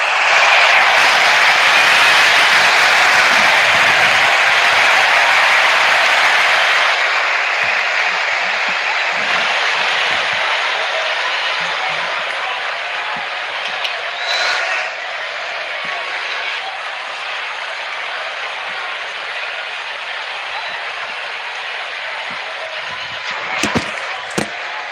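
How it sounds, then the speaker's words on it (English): A cricket crowd in RC24 roars in a broad, loud wash as the openers come out. The cheering is strongest at first, then fades to a softer, steady hum with a few scattered thumps. "Out come the openers, cheered by a good crowd in."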